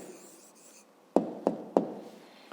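A pen scratches faintly on paper as an answer is written out by hand, followed by three sharp taps of the pen close to the microphone, with no voices.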